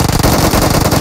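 Rapid automatic gunfire bursts from a mobile shooting video game, loud and close, with bursts of shots crowding the whole second.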